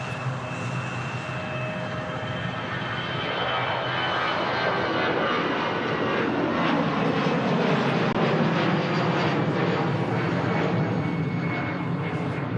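An airliner takes off at Manchester Airport with a broad roar of jet engines that swells and holds steady at a moderate distance for several seconds.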